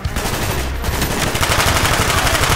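Dense, continuous machine-gun fire in a Call of Duty: Black Ops combat scene, rapid automatic bursts that blend into a loud, sustained battle roar with no pauses.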